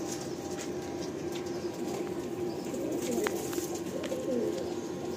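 Many pigeons in a Kolkata loft coo together in a dense, continuous murmur, with faint wing flutters and occasional scuffles mixed into the steady, fairly quiet background.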